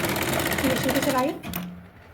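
Sewing machine stitching the sleeve cuff of a girl's frock made from an old sari, a rapid mechanical whirring run that slows and fades within about two seconds.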